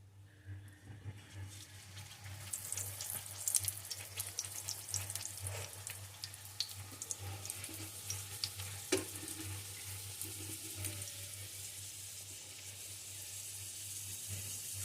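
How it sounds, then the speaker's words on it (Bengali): A paratha fries slowly in a little white oil, giving a soft, continuous sizzle that swells and settles, with occasional faint spatters and scrapes over a low hum. "অল্প আছে আস্তে আস্তে ভেজে নেব এইভাবে আস্তে আস্তে"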